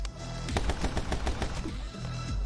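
Shotgun blasts in the video game My Friend Pedro, a quick run of loud, close shots in rapid succession over game sound, then a brief lull before a final report.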